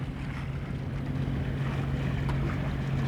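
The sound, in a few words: sailboat motoring under engine power into Rodney Bay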